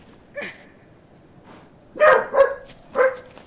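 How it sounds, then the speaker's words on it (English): A dog barks in a Shadow of the Colossus PS4 Pro game: one short yip, then three close, sharp barks in quick succession over a quiet background. "barking"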